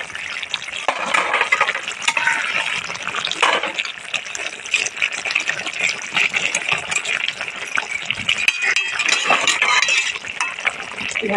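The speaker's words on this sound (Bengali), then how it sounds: "এবার ভেজে রাখা মাছগুলোকে দিয়ে দেবো।" Fried hilsa fish added to a pan of Malabar spinach, sizzling and bubbling with wet crackles, scraping and stirring clatter, fairly loud and close throughout.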